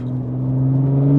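BMW G80 M3 with DCE downpipes and a single midpipe resonator delete, its exhaust giving a soft, low burble: a steady deep droning rumble that swells slightly louder over a second, close and alone.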